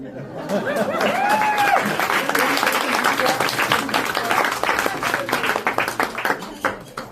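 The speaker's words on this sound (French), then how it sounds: "Est-ce que vous pouvez vous applaudir?" An audience applauds itself at the opening of a poetry festival, with loud clapping mixed with chatter, laughter and voices, the claps thinning into scattered bursts near the end.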